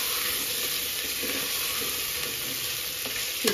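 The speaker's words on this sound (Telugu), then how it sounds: "బిర్యానీ ఆకు, బీర్నీస్, క్యారెట్, ఆలుగడ్డ ఈ 3 వేసుకొని మంచిగా కలుపుకోవాలి." Bay leaf, beans, carrot and potato fry in an oiled pan for a vegetable biryani, a dense, even sizzle close up with faint stirring scrapes and a small clatter at the end.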